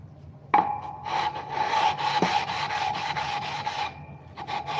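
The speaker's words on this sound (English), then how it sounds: "Let's go ahead and try bumping up to the 1000 grit." A raw steel knife blade is pulled across a 1000 grit whetstone in a quick series of rasping strokes, close and fairly loud, with a short pause before a few final passes.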